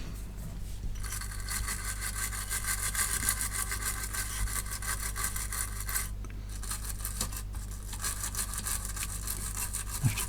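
Commodore Plus/4 chip pins and sockets are scrubbed with a small brush and strong contact cleaner, a fine continuous bristly scratching, steady and close, over a low hum.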